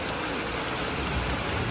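Heavy rain pours in a loud, unbroken roar, close and constant with no voices over it.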